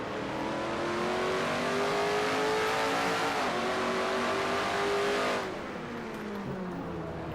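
Pontiac stock car engine at full throttle during a race, heard from inside the car: a loud, steady roar with rising harmonic pitch over several seconds, dropping off sharply near the end as the throttle lifts.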